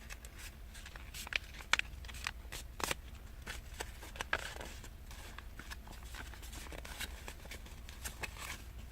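Sheets of paper being creased and folded into a paper airplane, the thick nose layers pressed down; repeated crisp crinkles and sharp creasing snaps close by over a steady low background hum.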